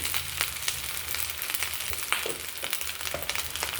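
Carrot and rice frying together in a pan, an even close sizzle broken by a few soft scraping stirs, with no voices.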